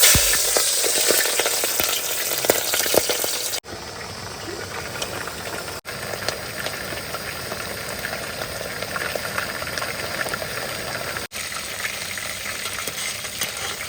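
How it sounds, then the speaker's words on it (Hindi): Chicken deep frying in hot oil gives a steady, dense bubbling sizzle that runs the whole time, loud and close, broken by a few abrupt cuts. "अभी हमने जो चिकन फ्राई करना है ना"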